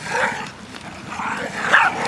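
A dog barks and yips in short, agitated bursts, fairly close and outdoors in the snow, with a few louder barks near the end.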